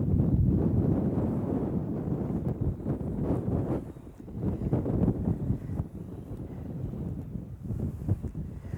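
Strong wind buffets the microphone on an inshore fishing boat in the Solent, a loud, gusty low roar that swells and dips without a break.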